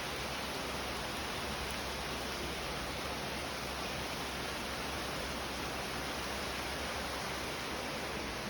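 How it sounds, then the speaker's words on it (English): Steady rain falls outside, a dense, even hiss of drops that stays constant and fairly loud from start to finish, with no voices over it. "Look at the rain. So beautiful."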